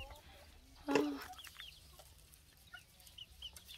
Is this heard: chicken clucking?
yes